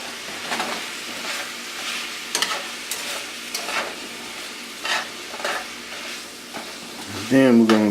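Sweet and sour pork sizzles steadily in a hot pan while a utensil scrapes and stirs it in irregular strokes, ending in a louder clatter of stirring.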